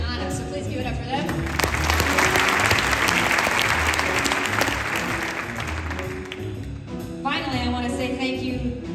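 An audience claps and cheers loudly for several seconds, a dense sustained applause that dips slightly and swells again, with a voice speaking over the crowd near the end.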